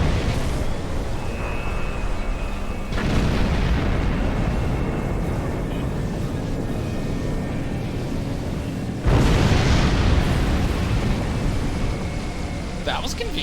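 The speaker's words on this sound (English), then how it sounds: "That was quite an explosion" A starship explodes in the space combat game Star Trek Online: two heavy, broadband blasts about six seconds apart, each with a sharp onset and a rumbling tail, over a continuous layer of battle noise.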